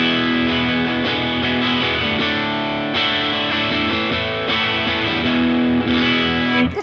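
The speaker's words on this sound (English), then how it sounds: "That sort of strummed, slightly overdriven Tele sound." Slightly overdriven Telecaster electric guitar strummed steadily in chords through a Laney Lionheart Foundry LF60-112 amp, a bright, gritty tone with sustained ringing, played alone and fairly loud.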